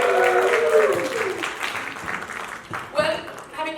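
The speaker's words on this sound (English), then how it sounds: "So give yourselves a huge round of applause." Audience applause rises at a brand launch event, a broad patter of clapping mixed with voices and an amplified speaker talking over it.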